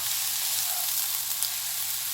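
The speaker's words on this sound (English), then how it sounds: "I'm going to put in some of the coarse garlic" Coarse garlic sizzles in a hot pan, a loud, even, continuous hiss close up with no pauses.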